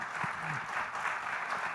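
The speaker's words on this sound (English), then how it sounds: "So huge round of applause for Ravish." An audience applauds a guest at a Media Rumble conversation event, a soft, even wash of clapping that holds steady throughout and stays fairly quiet and distant.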